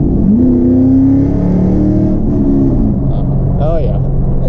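Chevrolet Camaro SS, nearly 17 years old, accelerating hard with a loud steady exhaust roar and rising engine pitch heard from inside the car, a voice briefly audible over it.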